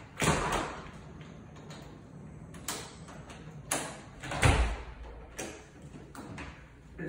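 A misaligned door with a badly fitting strike plate being jiggled to make it latch: a quiet series of sharp clacks, rattles and thuds at irregular intervals, fairly close.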